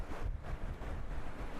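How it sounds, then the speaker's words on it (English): Gusty wind buffets the microphone on a sunny beach where blowing sand is whipped along, a loud, dense roar for a short stretch with no voices. "It's too windy."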